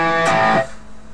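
Distorted electric guitar run through a Guitar Rig software distortion preset, a single loud chord with rich sustained harmonics lasting about half a second before decaying into a fading tail.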